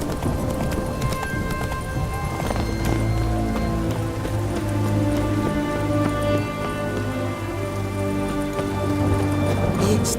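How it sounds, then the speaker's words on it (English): Rain falls steadily in The Witcher 3 while a horse's hooves clip-clop along beneath it, a constant soft hiss of raindrops with rhythmic hoofbeats and a low musical drone throughout. "It's raining, of course it's going to be damp."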